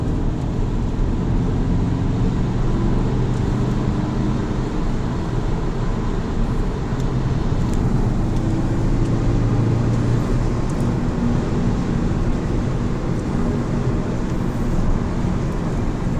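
A Skoda Octavia vRS undergoing diesel particulate filter regeneration drives along, a steady low engine and road drone with tyre rumble filling the cabin continuously, no talk.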